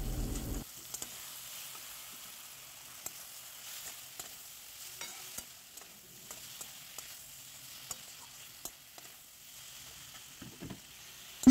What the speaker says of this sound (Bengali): এবার আবার ভালো করে এটা নেড়েচেড়ে নেওয়া হচ্ছে যাতে আদার কাঁচা গন্ধটা চলে যায়।